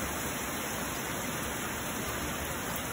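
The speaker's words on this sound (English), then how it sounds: "Look at all that rain just pouring off the house." Steady, heavy rain pours and splashes nearby, running off a house, a dense continuous hiss of falling water with no voices.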